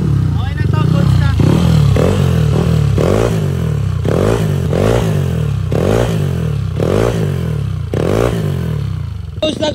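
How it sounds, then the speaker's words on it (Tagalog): A Yamaha NMAX V2 scooter engine idles and revs in short, repeated bursts after a tune-up, close and loud, while people talk over it. "Goods na to, tahimik na yung makina."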